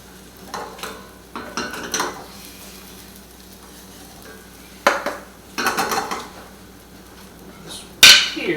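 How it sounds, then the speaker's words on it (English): Omelette egg cooks in a frying pan as the pan is tilted and moved, with soft sizzling between several clattering bursts of metal cookware and utensils, and no voices. "you can hold the pan to the side, start moving the liquid underneath, and it will cook right to it."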